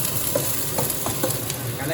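Noodles for Malay-style mi kicap stir-fry in a hot pan, giving a steady sizzle with light scraping and stirring knocks.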